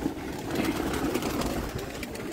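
Flying pigeons cooing, low soft coos rising and falling over a steady noisy outdoor background, fairly close, with no talking.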